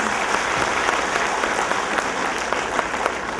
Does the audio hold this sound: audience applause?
yes